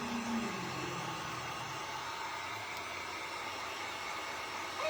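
Steady, continuous whir of a hair dryer blowing over freshly painted Valentine's piggies to dry the paint, constant airflow noise throughout, moderately quiet and unbroken.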